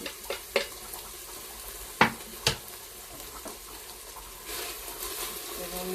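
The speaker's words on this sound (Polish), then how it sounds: "wrzucamy pomidory suszone, pokrojone na mniejsze części" Chopped sun-dried tomatoes dropped onto chicken in a Tefal Cook4me pot land as a few soft, close thumps and knocks over a faint sizzle, followed by a low rushing texture near the end.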